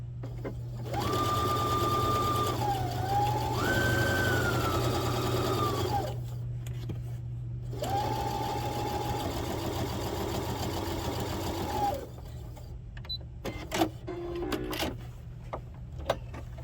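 A sewing machine runs a straight stitch down a quarter-inch seam on an Anthurium box pouch, whirring loudly in two long bursts with a pause between, then a few clicks as it stops.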